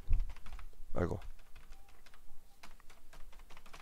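Keys clack on a computer keyboard in a quiet room, with scattered soft taps and one firmer press, while someone speaks quietly in the background.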